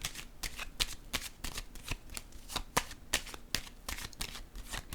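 Tarot cards are shuffled and laid down in a quick run of crisp, close riffling snaps and soft slaps, irregular in rhythm and fairly quiet.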